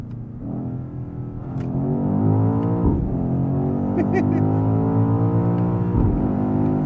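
BMW XM Label Red engine revving hard through gears, a loud, close rising drone that climbs repeatedly, drops sharply at each shift and climbs again, with no talk over it.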